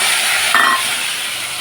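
Nigella seeds dropped into hot oil for tempering: a short, close, steady hissing sizzle with a slight flare partway through.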